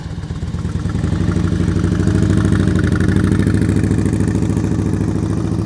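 A motorcycle engine runs at low speed during slow-speed riding practice in Georgia. It gives a loud, close, steady throbbing rumble with a fast pulsing beat and slight swells, with no voices.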